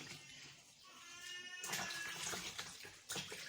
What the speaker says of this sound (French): Je rince mes mains.